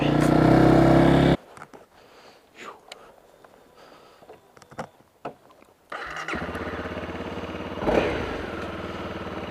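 A Honda CRF dirt bike engine roars loud and close at first, drops to a quieter stretch with scattered knocks and rustles, then returns as a steady running drone with a brief rev near the end while riding off-road.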